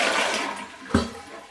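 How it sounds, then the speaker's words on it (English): A weak flush from a rocking household toilet being emptied, a brief close watery rush and gurgle with a sharp swirl near the middle, heard alone. "See how weak that flush is?"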